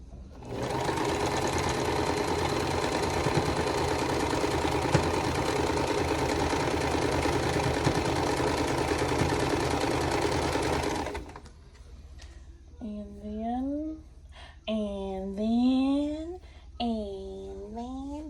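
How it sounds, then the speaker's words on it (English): Sewing machine stitching vintage quilt blocks together runs in a loud, steady, close hum for about ten seconds, then stops and a voice speaks in the quiet afterward. "So I'm gonna go ahead and sew these 2 together."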